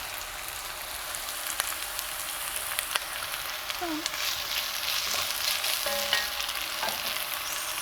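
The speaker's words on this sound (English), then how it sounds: "the longer onion is in oil and gets roasted, the better it tastes" Onion frying in oil in a pan, a steady bright sizzle and crackle filling the background throughout, with occasional faint stirring knocks and clinks.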